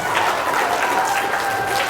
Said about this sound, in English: I want one last big round of applause for your SADD members today